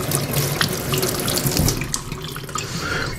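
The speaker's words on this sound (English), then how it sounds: "Let's rinse the blade off a little bit." Water runs steadily from a kitchen tap as a knife blade is rinsed during freehand sharpening, a loud close continuous splash and hiss with slight shifts as the blade moves through the stream, no voices.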